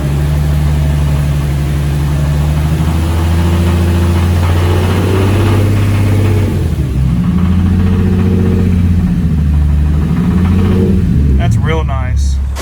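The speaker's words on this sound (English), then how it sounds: "I'm gonna rev it real quick like I was earlier." A car engine with a spun rod bearing revs loudly and continuously up close, its low harmonic tone rising and falling through several revs before easing off.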